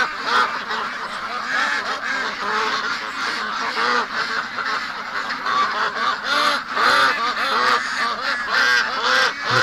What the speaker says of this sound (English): Oh, poor ducks.